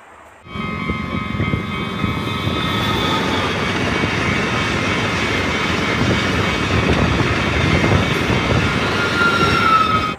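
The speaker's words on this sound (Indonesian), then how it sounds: "Ini kereta api cepat." A fast train roars past, loud and steady for several seconds, with rumbling wheels and a high metallic whine over the noise.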